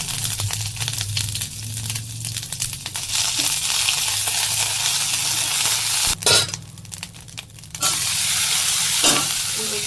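Asafoetida and ginger paste fry in a pan for a vegetarian lunch dish, giving a steady close sizzle with stirring scrapes and a few louder clatters, no voices.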